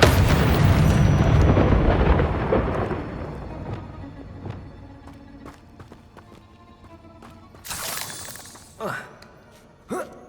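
In the Hogwarts Legacy video game, the Incendio fire spell bursts with a loud roaring blast. It fades over several seconds and is followed by scattered clatter and sharp impacts.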